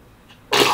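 A single abrupt sneeze bursts out close and loud after near silence, a short explosive blast that trails off quickly.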